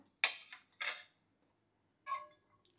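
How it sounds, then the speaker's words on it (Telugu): Cashews tumble into a dry pan for roasting in two quick clattering pours close together, followed after a pause by a third lighter rattle, with quiet between. "క్యాష్యూస్ ఫ్రై అవ్వడానికి వేసుకుంటున్నాను"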